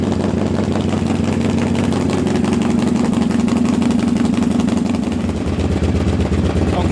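A motorcycle engine idles steadily while warming up on a cool morning around 50°F, a constant low rumble with a fast pulsing beat that holds near and loud throughout, shifting slightly in tone near the end.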